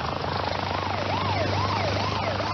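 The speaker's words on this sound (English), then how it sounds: "he was met by a University Air Care helicopter" A helicopter's steady, close rotor drone fills the air while a wailing siren rises and falls over it.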